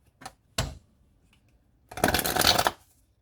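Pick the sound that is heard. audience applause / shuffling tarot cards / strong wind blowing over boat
shuffling tarot cards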